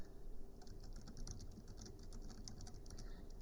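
Steady, rapid typing on a keyboard, soft clicks running continuously and close by with no talking.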